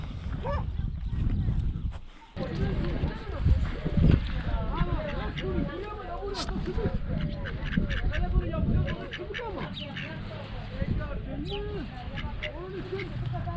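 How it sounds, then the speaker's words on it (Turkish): Ducks quack repeatedly nearby in a village setting, a busy chorus of nasal calls, while a person talks over them. "Ördekler de var burada"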